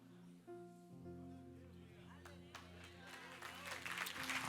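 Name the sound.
church congregation applauding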